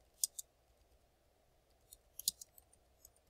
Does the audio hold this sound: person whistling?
no